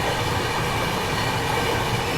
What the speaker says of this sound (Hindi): ये कोई पैसेंजर ट्रेन है